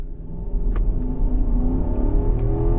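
An SUV launches from a standstill in a 0 to 60 test after being held at about 2,000 RPM. The engine gives a loud, close, rising roar that stays strong and continuous throughout.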